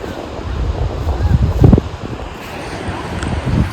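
Gusty, shifting wind buffets the microphone outdoors in a Gujarati village during the Uttarayan kite festival, rising and falling with a brief louder burst, over a low rushing background.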